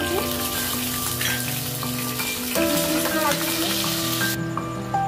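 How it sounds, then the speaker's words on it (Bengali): Raisins fry in hot oil in a pan, giving a dense, steady sizzle with some stirring clatter close by, while a voice speaks faintly underneath. "এরপরে কিশমিশগুলো ভেজে নিচ্ছি"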